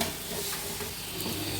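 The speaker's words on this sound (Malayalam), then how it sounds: "കറിവേപ്പിലയുടെ 2 ഇതൾ കറിവേപ്പില ഊരിയിട്ടു. വീണ്ടും ഇളക്കുക." Curry leaves crackle and sizzle in hot oil in a pan for a lady's finger curry, a brief soft frying hiss with faint stirring.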